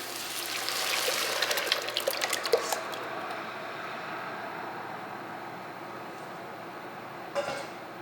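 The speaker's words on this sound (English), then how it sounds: "we're going to pour in our tomatoes here" Canned tomatoes pour into a cooking pan for chicken parmesan, with a wet, sloshing glug for about three seconds, then a quiet kitchen with a faint clink near the end.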